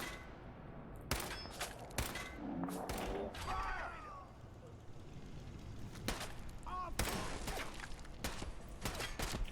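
Scattered gunshots from a Fallout video game, several sharp separate blasts spread irregularly across the clip at moderate loudness, mixed with other game effects and background noise.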